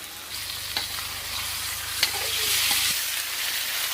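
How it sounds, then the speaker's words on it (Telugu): Ginger and garlic frying in a pan give a steady, fairly loud sizzle with a low hum underneath, punctuated by a few short stirring clinks and scrapes. "అల్లం వెల్లిగడ్డ వేద్దాం, ఎందుకంటే ముక్కకు పడుతుంది."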